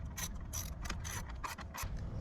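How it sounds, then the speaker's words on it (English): Ratchet wrench tightening a battery terminal on a GMC Hummer EV, a quick run of sharp clicking bursts in uneven groups, close and fairly quiet, with no talking. "So now we're going to go ahead and tighten this terminal back."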